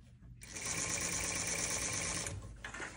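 A sewing machine stitches trouser rises front and back together in one close, continuous whirring run of rapid needle strokes that slows slightly and stops near the end.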